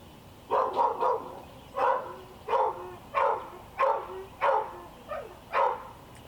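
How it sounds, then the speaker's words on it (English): A pet dog barks repeatedly at a steady pace, about nine sharp close barks spaced under a second apart with a brief whimper near the end. "My dog is going crazy"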